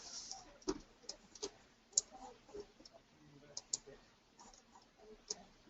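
Sparse, sharp clicks from a computer mouse and keyboard shortcuts while working in drawing software, spaced irregularly across several seconds, quiet and close with faint background hum.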